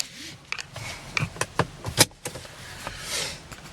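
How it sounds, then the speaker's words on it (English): A seatbelt is pulled out and buckled inside a 2014 Cadillac ELR hybrid coupe, giving a series of close clicks and rustles followed by a sharp latch snap, then soft interior movement. "I'll go ahead and put my seatbelt on"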